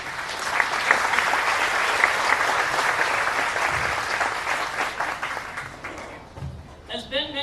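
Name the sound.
luncheon audience applauding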